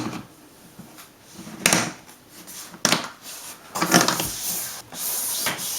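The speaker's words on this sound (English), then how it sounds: "Time to put the lid on." A lid is fitted onto a home brew fermenting bucket holding Punk IPA, making several close, sharp plastic snaps and scrapes spaced a second or so apart, with quiet pauses between.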